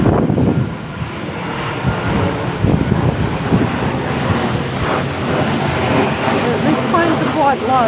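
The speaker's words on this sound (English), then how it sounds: "These planes are quite low" A low-flying airplane roars past overhead in strong wind, a loud continuous engine drone mixed with gusting wind noise and a voice speaking over it.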